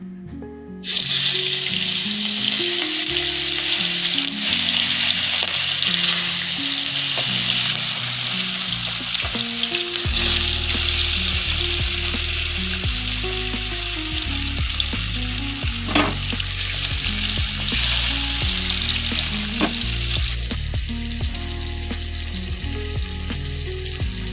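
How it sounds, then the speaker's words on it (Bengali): Pieces of rui fish fry one by one in hot oil for a Bengali doi rui, giving a loud, steady close-up sizzle that runs unbroken throughout with occasional faint clinks. "এবার তেল গরম হয়ে গেছে এবার মাছগুলো আমি একে একে ভেজে নেবো"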